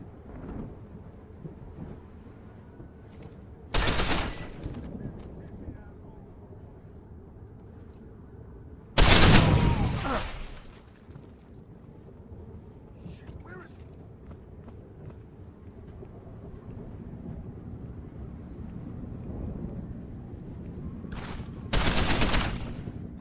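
Gunfire erupts in a combat assault in the game Deus Ex: Human Revolution, with three loud, sharp explosive bursts spaced several seconds apart over a low rumbling game ambience.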